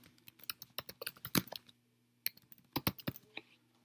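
Someone types an email address on a computer keyboard: two quick bursts of sharp key clicks, uneven in rhythm, with a short pause between them and a faint steady hum behind, close by and without speech.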